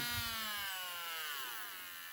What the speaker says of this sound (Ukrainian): а зараз навіть на малих оборотах просто працює